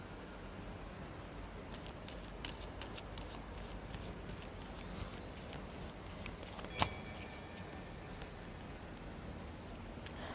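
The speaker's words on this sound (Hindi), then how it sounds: "I shuffle the cards" Tarot cards are shuffled slowly in a quiet room, making faint, soft papery flicks and riffles, with one sharper tap partway through.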